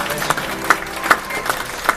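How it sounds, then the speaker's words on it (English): On board a cruise ship at a top-tier guest meeting, a small audience claps, with a few distinct loud claps standing out at a regular beat over sparse background clapping. "Some applause for Victor, everybody."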